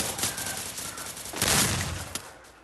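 Gunshots in a mobile shooting game, a muffled, noisy spray of fire with a louder burst in the middle and a sharp single crack near the end, moderately loud.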